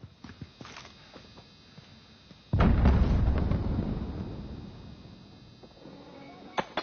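A grenade blows up in a video game firefight with a sudden loud, booming blast that rolls on and slowly fades over several seconds, after quieter scattered game noises.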